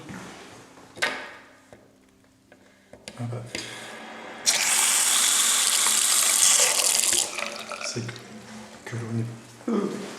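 Water gushing from a tap in an abandoned preventorium, a loud steady rush in the middle of the clip, with someone talking before and after and faint bumps and footsteps around it.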